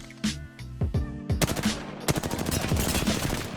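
Apex Legends gameplay gunfire: a few sharp single shots, then dense rapid automatic bursts, loud and close, with no talking.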